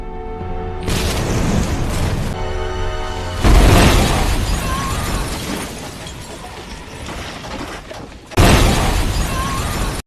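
Film bomb explosions and crashes break in abruptly, with loud booming bursts and shattering debris set against a tense soundtrack, two sharp surges standing out above the dense background.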